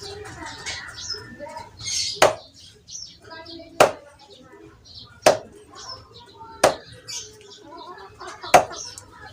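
Crispy eel (igat) is chopped into small pieces for sisig, five sharp, evenly spaced knife chops on a board, close and clear, with quiet background noise between strikes.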